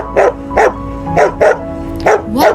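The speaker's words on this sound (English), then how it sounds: "Yes, it's a dog." A dog barks six times in an evenly spaced series of sharp, close, loud woofs, heard alone with no talking.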